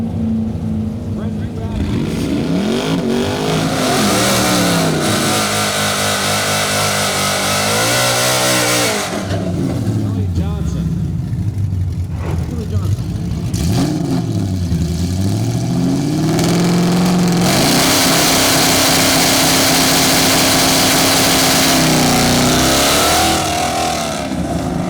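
A drag racing car in a bracket class makes an eighth-mile pass at an NMRA and NMCA event, its engine loud and close, revving hard through rising and falling gear sweeps with a steady roar.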